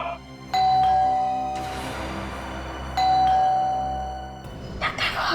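A two-tone ding-dong doorbell sounds twice, each chime ringing out clearly and loudly before fading, with a brief shuffle of movement at the end and no talking.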